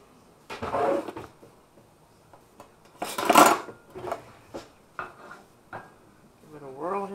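Olive oil swirled around a pan ahead of a pork and vegetable stir fry, heard as clinks and scrapes of metal cookware in a few separate bursts, with a louder clatter in the middle and a voice speaking near the end.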